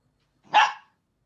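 A single short, sharp dog bark, close and clear against silence.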